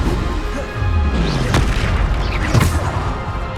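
Spell blasts from the Bombarda curse in the Hogwarts Legacy video game: two heavy booming explosions about a second apart over a dense, continuous bed of battle noise, with no one speaking.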